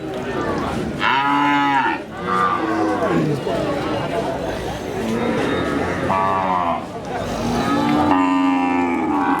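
Small cattle low loudly and repeatedly at a busy Qurbani cattle market in Gafargaon. The close moos rise over constant crowd chatter and nearby voices.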